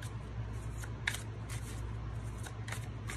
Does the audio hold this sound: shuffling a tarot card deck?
yes